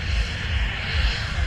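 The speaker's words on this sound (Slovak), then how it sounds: "Ako sa nám lietadlo pripravuje k úzletu" A Czech Gripen fighter jet runs its engine before takeoff at an international air show in Slovakia, giving a steady, loud, broadband roar with deep rumble, heard alone without talk.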